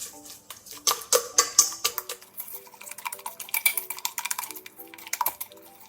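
Eggs and sugar whisked in a metal pot set over warm water, the whisk or spoon clinking and scraping against the sides in quick, uneven strokes, close and fairly loud, with no voices.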